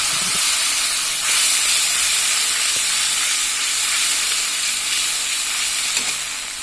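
Water is poured into a pan of fried onions, which hiss and sizzle loudly as steam bursts up, then settle into a steady, continuous frying noise with no talking.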